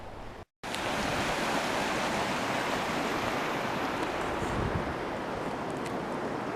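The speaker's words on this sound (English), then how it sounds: "We got a spillway" Water rushing over a river spillway, a dense, steady roar of flowing water up close, continuous after a brief dropout near the start.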